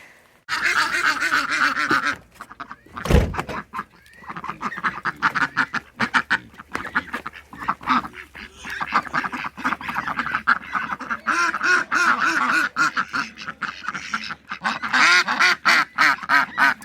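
Ducks quack loudly and continuously nearby, a busy overlapping chorus of honking calls with a brief sharp bang partway through.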